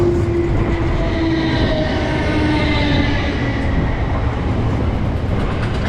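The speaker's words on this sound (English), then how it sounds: "Here is our train" A British Rail Class 455 electric train arrives at a London platform, rumbling steadily close by, with a faint high squeal at the start and a continuous loud mechanical drone throughout.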